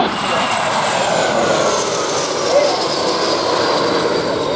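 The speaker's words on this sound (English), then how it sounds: "we have 2 Italian jets" Italian jet aircraft flying over the Oshkosh EAA AirVenture 2021 airshow, a steady broad roar of jet engine noise sustained throughout, moderately loud, with faint crowd or announcer voices underneath.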